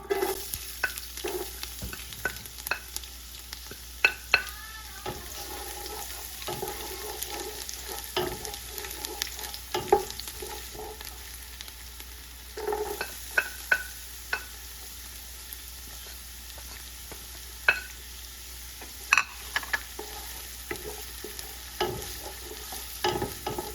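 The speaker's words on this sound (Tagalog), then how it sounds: "Tayo ay mag-uumpisa ng maggisa." Garlic and onion sauté in a pan for pancit palabok. A soft, steady sizzle runs under scattered clicks and scrapes of stirring, with no voices.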